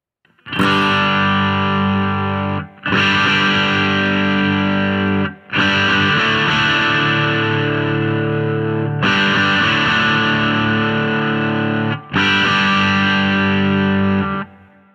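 Electric guitar run through a distortion pedal, with five sustained, thick overdriven chords ringing loudly in turn, each separated by a short gap.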